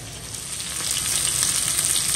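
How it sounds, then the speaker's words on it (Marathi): Taad fish frying in a pan on a medium flame, a loud, continuous, hissing sizzle that swells slightly and holds steady. "मच्छी मीडियम फ्लेमवर आपण 2 ते 3 मिनटं शिजून घेऊयात"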